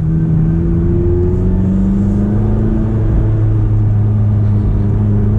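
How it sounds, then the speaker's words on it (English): McLaren 570GT turbocharged engine accelerating, heard as a loud, steady low rumble from inside the car with a slowly rising engine tone. "Now that turbo really kicks in."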